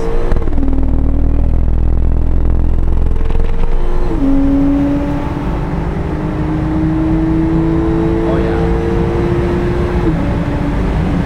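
A Porsche 911 Turbo S accelerates hard and loud close by, its engine climbing through gears with one shift around the middle before a second rising pull.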